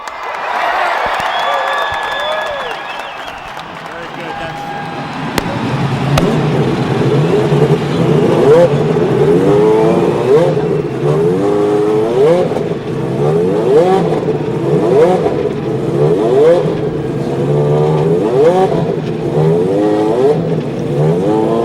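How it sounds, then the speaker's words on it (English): Race car engines at the 1994 Indianapolis 500 fire up after a quieter opening with crowd noise, then a dense, loud roar of many engines revving and rising in pitch over and over, with spectators cheering underneath. "Ladies and gentlemen, start your engines."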